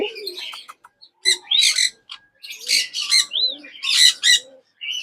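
Parrots at a large breeding farm give repeated sharp squawks and chirps in irregular bursts, close and loud, with short quiet gaps between calls.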